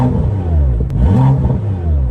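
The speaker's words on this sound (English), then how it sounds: "So let's hear this exhaust a little bit. Valves closed to start off with. I'll do a few revs in Eco Pro" A BMW M2 with the N55 engine revs in Eco Pro mode with its exhaust valves closed, giving a steady, loud, muffled low drone that swells briefly around the middle of the burst.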